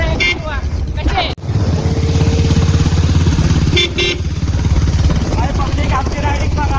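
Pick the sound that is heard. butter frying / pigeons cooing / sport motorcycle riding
sport motorcycle riding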